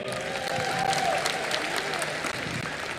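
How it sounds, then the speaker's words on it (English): An audience claps at the closing ceremony of the 53rd IFFI film festival, a steady, moderately loud round of applause from a large crowd lasting the whole three seconds. "Round of applause once again."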